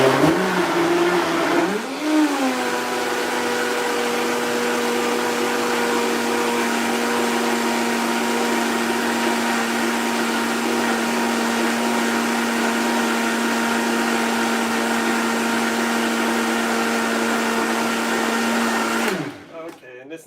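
A blender strains at high speed whipping up a high-protein, high-fiber Japanese-style healthy smoothie, its steady whining motor running close and loud for about seventeen seconds before cutting off.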